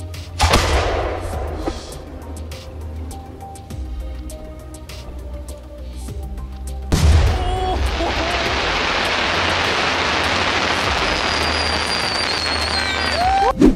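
A deep boom opens, followed by a loud single fireworks blast in Italy that gives way to a long, roaring rush of noise, with distant crowd sounds beneath.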